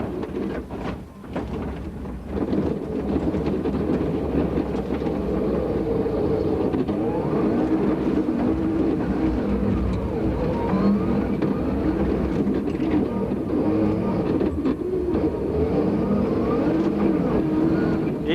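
A rally car at the 2002 Rallye International du Valais accelerates hard on an icy stage, its engine note rising after a brief dip and holding a loud, rough, sustained roar close by.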